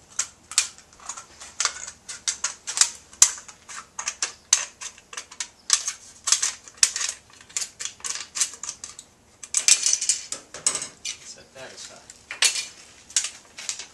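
Scissors snip through a thin aluminum soda can while making a homemade alcohol stove, giving a quick series of crisp metallic crunches and clicks in an uneven rhythm, close and fairly loud.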